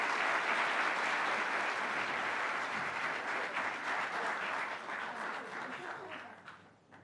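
Applause for a state senator at a government press event, with a crowd's dense sustained clapping that fades out toward the end.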